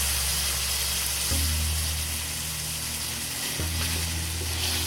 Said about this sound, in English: saute my tomato paste